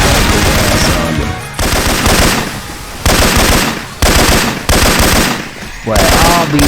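Loud, close bursts of automatic gunfire in Left 4 Dead 2, using Syphon Filter weapon sounds, come in several long sustained volleys separated by short pauses, with voices talking between them.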